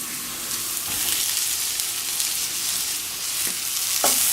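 Bell peppers frying over high heat in a pan with minced meat and spices, a steady close sizzle with a few brief utensil scrapes and clicks near the end.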